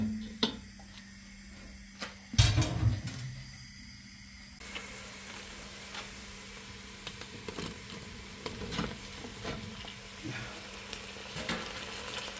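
Chopped onion frying in oil in a pot on a stovetop, a steady soft sizzle and hiss with a louder clatter early on as ingredients go in.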